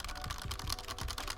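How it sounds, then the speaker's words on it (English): Rapid clacking keystrokes on a red-switch mechanical keyboard, close and fairly loud, in a quick irregular rhythm with no voices. "This is a red key switch,"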